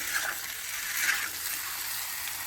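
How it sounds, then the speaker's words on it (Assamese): Food frying with salt in a pan on a home stove: a steady, close hiss and crackle that holds evenly for a couple of seconds, with a few slightly louder sizzling bursts and no talking. "তো মই খালি এতিয়া নিমখ দি ভাজি থাকিম"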